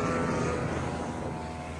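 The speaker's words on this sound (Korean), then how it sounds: "경비행기가 날아가면서" Light aircraft flying overhead at an outdoor festival in the Coachella setting, a continuous droning engine roar with a steady tone, fairly loud and unbroken, no talk.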